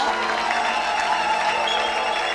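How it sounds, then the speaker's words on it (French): A church congregation cheers and applauds, a dense, steady wash of clapping and shouting voices filling the room evenly throughout. "Donne une grande acclamation à Jésus-Christ."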